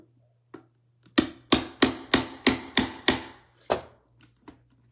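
A series of about eight sharp punching knocks from an awl driven through a cardboard cigar box, quick and evenly spaced, close and crisp, with a couple of lighter taps before and after.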